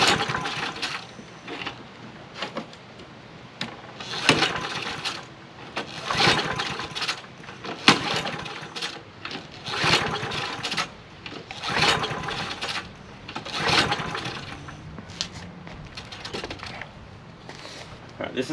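A curb-found John Deere JS63C push mower with a Briggs and Stratton engine is pulled repeatedly, each yank giving a short clattering burst in an uneven rhythm without catching, with a voice talking between pulls.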